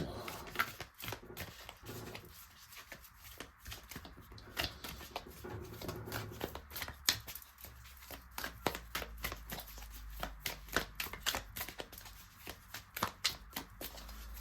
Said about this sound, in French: on va prendre 3 cartes, je vais les mettre de dos et ensuite je vais les réunir